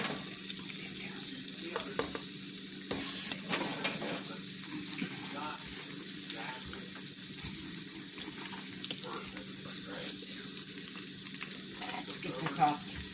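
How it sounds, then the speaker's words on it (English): Continuous loud sizzling and crackling of meat frying in a hot pan, with faint scraping and clatter underneath. "now it's time to reload my frying pan"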